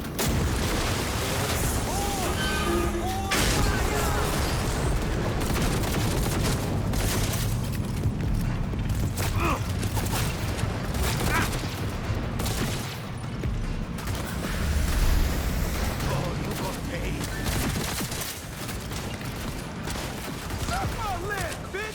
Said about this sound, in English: The ground is gonna explode.